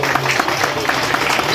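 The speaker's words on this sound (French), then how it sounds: "On applaudit." Wedding guests at a church nuptial ceremony clap steadily in a brief, dense burst of applause, with faint voices mixed in.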